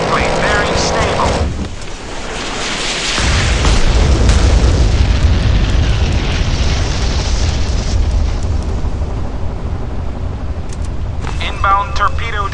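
Torpedo striking a warship in the naval combat game Modern Warships, a heavy booming explosion that swells into a loud sustained rumble for several seconds, with synthetic radio-style voice alerts at the start and end.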